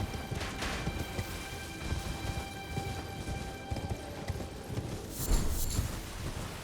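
A horse's hooves clip-clop in the Elden Ring video game in a steady galloping rhythm, with scattered thuds and game effects layered over it, moderately loud and with no talking.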